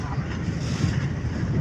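A speed boat approaches across open water, a steady broadband engine-and-hull rush mixed with wind buffeting the microphone, fairly loud and constant throughout the short stretch.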